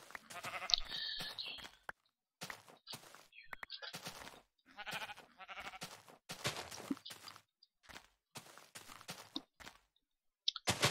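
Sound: sheep bleating in the video game Minecraft

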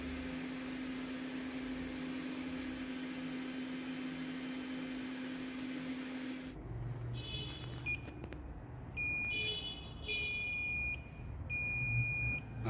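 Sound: multimeter continuity test beeping on a Samsung J210 phone board

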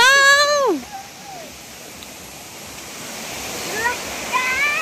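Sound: swift river rushing past

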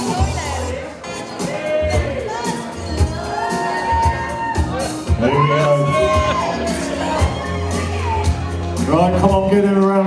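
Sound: wedding guests cheering and applauding

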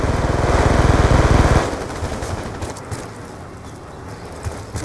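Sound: gunfire from enemies shooting in video game Black Ops 2

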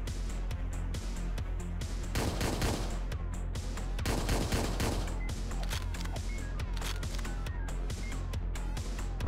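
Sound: gunfire in a video game

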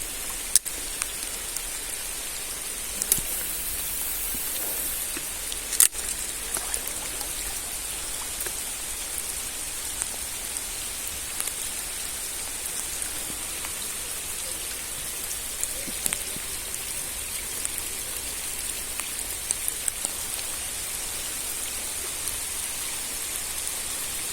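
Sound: heavy rain falling during night fishing

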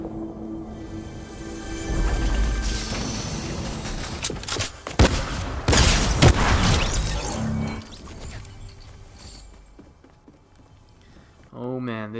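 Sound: tactical shotgun firing in Fortnite, video game

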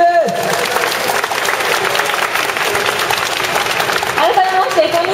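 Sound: audience applause welcoming performers

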